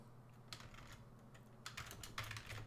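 Code is typed on a computer keyboard in quick, soft, irregular bursts of key clicks over a low background hum, close and faint with no voices.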